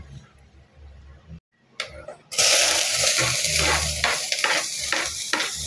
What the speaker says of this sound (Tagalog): Maggisa tayo ng bawang sibuyas.